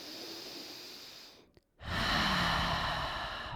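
A slow, deep breath during a yoga pose: a long steady airy exhale, a brief pause, then a strong sustained inhale, close and alone.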